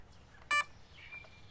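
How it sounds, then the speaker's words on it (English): A radio transmitter beeps while binding to an E-flite Cirrus SR22T model plane, giving one short, clear electronic beep followed by a fainter tone a moment later in a quiet room. "now it's beeping at us"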